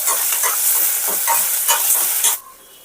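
Ginger and green chillies hit a hot mustard-seed tempering in a pan, producing a loud, close crackling sizzle with popping bursts that cuts off abruptly near the end.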